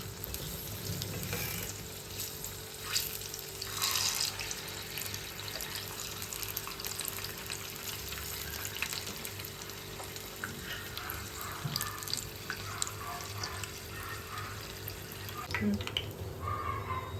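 Paneer-stuffed mirchi bajji, green chillies in batter, fry in hot oil with a steady, moderate sizzle and crackle, joined now and then by brief stirring and splashing, with no voice over it.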